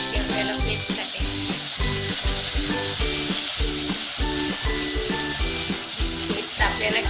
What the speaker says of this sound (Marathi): पेस्ट आपल्याला छान परतून घ्यायची आहे तेलामध्ये